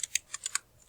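Five quick, light keystrokes tap on a computer keyboard in an uneven burst, close and faint against a quiet background.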